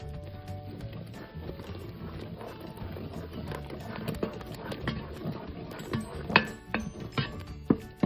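A spoon stirs a thick peanut butter and marshmallow mixture in a pot on low heat, giving soft repeated scraping and sticky knocking sounds with a few sharper clanks against the pot toward the end.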